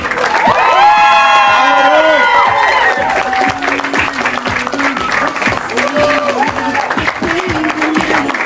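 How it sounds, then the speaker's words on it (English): Wedding guests applaud and cheer a newly married husband and wife, a dense, loud crowd clatter with whoops and shouted voices rising over it, easing slightly then swelling again. "Would you give him a round of applause?"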